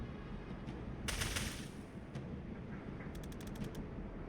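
Gunfire from the turn-based tactical video game Tactical Breach Wizards, with one short burst of shots and then a quick run of rapid clicking reports, quiet against a low background hum.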